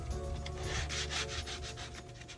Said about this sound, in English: The final sanding on the drawers is with 220 grit sandpaper